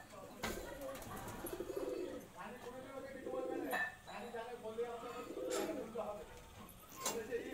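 Pigeons coo softly in a loft of Andhra pigeons, low repeated throaty calls with occasional clinks nearby, while people talk over them.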